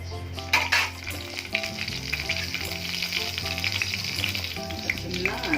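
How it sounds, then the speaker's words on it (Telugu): Urad dal and mustard seeds fry in hot oil for a tempering, giving a continuous close sizzle with sharp popping crackles and occasional stirring scrapes throughout. "కొంచెం మినప్పప్పు, ఆవాలు, తిరగమాత వేస్తున్నాను."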